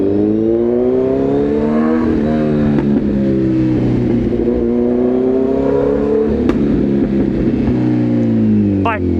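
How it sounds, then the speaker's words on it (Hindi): A Kawasaki Z900 motorcycle engine runs loud and close, a deep, steady harmonic rumble that climbs and falls as it revs, with a couple of sharp cracks near the end. "पटा पटा पटा पटा पटा पटा पटा बाइक ऐसा करती है मेरी"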